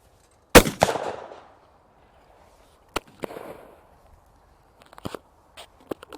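A shotgun fires at a clay target thrown from a trap, with a loud sharp report followed by echoing decay, then more gunshot cracks and softer pops spread over the following seconds.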